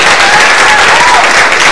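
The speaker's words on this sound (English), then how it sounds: "Clap if you want to clap." Church congregation clapping loudly and continuously in a dense, close wash of applause, with faint voices mixed underneath.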